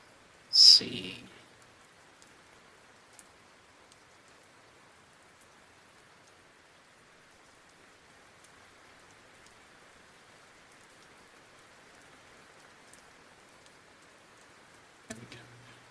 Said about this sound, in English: I'll keep the rain going. The rain is always a little nice to have in the background.